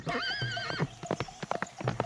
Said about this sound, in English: the farmer's son left the stable door open, and the horse ran away